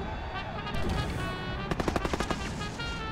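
Gunfire in the video game Penarium, a rapid burst of about eight sharp shots near the middle over a dense, continuous background of game sound, moderately loud and close.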